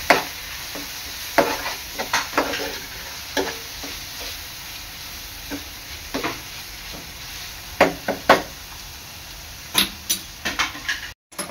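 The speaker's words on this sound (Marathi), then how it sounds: "चांगलं मिक्स करून घ्यायचं आहे आणि टोमॅटो सुद्धा शिजवून घ्यायचा आहे" Tomatoes cook in a pan under a soft background sizzle while a spoon scrapes and stirs in irregular, sharp strokes, close by with no voices.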